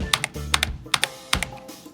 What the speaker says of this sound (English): if we start pressing keys like this key, for instance, on my keyboard right here, we're gonna press it full pressure on it.